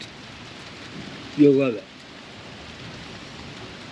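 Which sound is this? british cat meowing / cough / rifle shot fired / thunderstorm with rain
thunderstorm with rain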